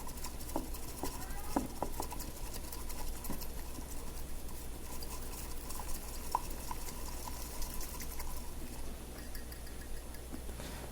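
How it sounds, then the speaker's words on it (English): A bamboo chasen whisks a thin matcha slurry in a cup with a quick, continuous patter and swish. The sound stays faint and even throughout, with no talking over it. "chasen, and we'll whisk that up."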